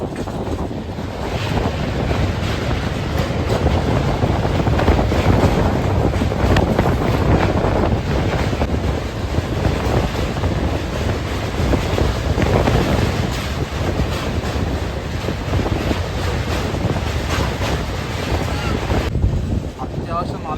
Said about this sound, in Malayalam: നമ്മുടെ ട്രെയിൻ ഇപ്പോൾ ഇതാ ഒരു റിവർ ക്രോസ് ചെയ്ത് പോവാണ് കേട്ടോ